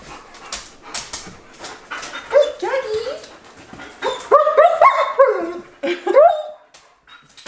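A dog whimpers and yips in a run of high, wavering cries mixed with short barks, close and fairly loud, set in a home kitchen while a meal is being cooked.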